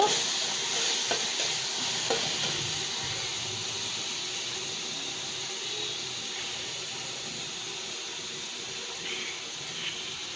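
Onion and garlic paste stirred in a hot pan while cooking rui fish bhuna with potato and tomato, a steady low sizzle and hiss with faint scraping strokes running throughout.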